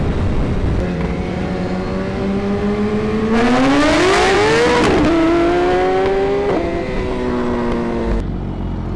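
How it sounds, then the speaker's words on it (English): A BMW S1000RR motorcycle engine on a roll race run, revving hard and loud with rising pitch through several gear changes, each shift marked by a brief dip before climbing again, then cutting off abruptly near the end. "Alright, we're gonna get a run in with the S1000RR."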